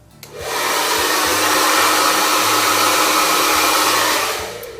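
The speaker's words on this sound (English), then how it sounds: "it's an infrared blow dryer" An infrared hair dryer switches on, blows steadily with a broad rushing hiss for several seconds, then cuts off; no talking.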